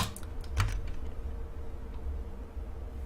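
A single key press on a computer keyboard while entering a digit into a simple calculator app, one soft close click standing out briefly over a steady low hum of room noise.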